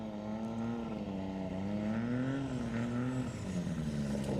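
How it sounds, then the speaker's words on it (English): A STOL airplane engine at a Rocky Mountain STOL competition practice makes a steady, chainsaw-like buzz whose pitch wavers up and down as the plane flies, continuous and moderately distant. "You can hear just like a chainsaw. It does sound like a chainsaw."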